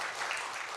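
Congregation clapping in a church service, a brief dense burst of many hands applauding in a welcome, moderately loud and heard alone.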